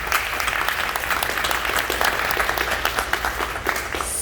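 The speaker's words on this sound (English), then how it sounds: "can we give a round of applause to Helene" A crowd applauds at a YMCA birthday celebration, and the steady, dense clapping holds at an even level for a few seconds.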